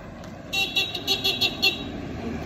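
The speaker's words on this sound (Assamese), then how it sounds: "এইখন গাড়ী আহিলে চা" A car passes close by and gives a series of five or six short, sharp toots on its horn over a low traffic rumble.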